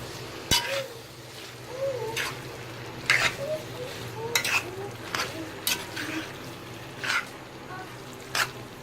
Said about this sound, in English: And you just give it a stir